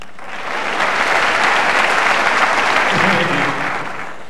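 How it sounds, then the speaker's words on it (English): Comedy show audience answering a question by applause, a loud burst of clapping from the crowd that swells quickly, holds steady for a few seconds, then tapers off, with a voice briefly heard underneath. "By applause."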